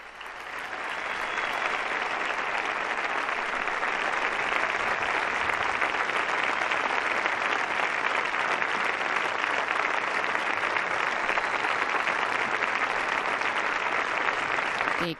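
A large crowd at a papal meeting with university students in Lisbon breaks into sustained applause, rising within the first second and holding dense and steady for the rest of the clip with no voices on top.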